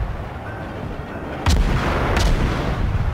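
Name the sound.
warship gunfire in the video game World of Warships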